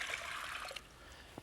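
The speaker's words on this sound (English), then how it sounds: "we're going to put half a pound of beans here, and I have 4 cups of water with it" Cold water pouring from a measure into a pot holding half a pound of dried beans, a soft, close splashing trickle that fades, with a brief knock near the end.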